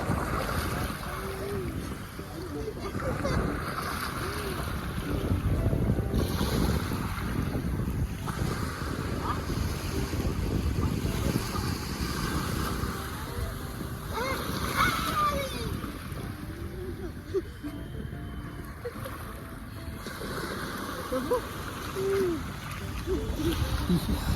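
Waves wash steadily onto Girgaon Chowpatty beach under continuous wind buffeting the microphone, with occasional voices in the background.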